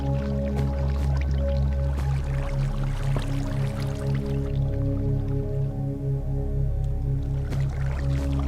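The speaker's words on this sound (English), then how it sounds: "Calm, relaxing sounds of water." Continuous dripping and gurgling flow of water in Minecraft Alpha 1.1, close and even, layered over gentle sustained music tones with no one speaking.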